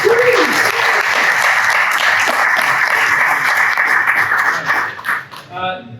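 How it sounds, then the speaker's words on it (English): A crowd applauding loudly and continuously, the clapping tapering off at the end as a voice begins speaking. "If you can give them one last round of applause."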